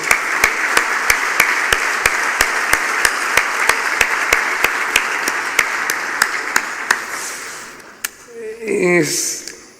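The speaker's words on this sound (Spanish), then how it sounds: "le damos una bienvenida como corresponde, con un fuerte aplauso." An audience at a 2019 closing luncheon welcomes guest speakers with sustained clapping, a rhythmic unison beat running for about eight seconds before it fades out, and a voice then begins speaking.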